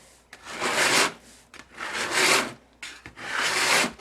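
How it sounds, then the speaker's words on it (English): Rhinestone flock circles being scraped off their backing on a mat, three rough rubbing bursts in a steady rhythm with short pauses between, close and fairly loud, no talking. "taking the backing off and scraping off all these circles"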